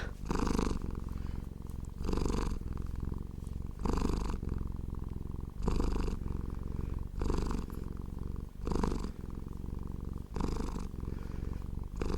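A loud, deep cat purr rumbles steadily throughout, swelling in regular pulses with each breath, close and continuous with no voices.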